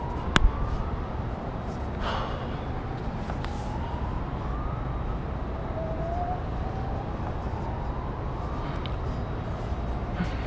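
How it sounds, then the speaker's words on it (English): Distant police sirens in Hollywood sweep up and down in long, faint wails beneath a steady roar of wind or road noise. "Now, James, whenever you're in a position like this and you hear sirens"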